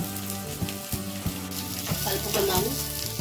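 Chopped onion, green chilli and curry leaves frying in hot oil, a steady close sizzle with occasional stirring scrapes and faint water sounds, no talk.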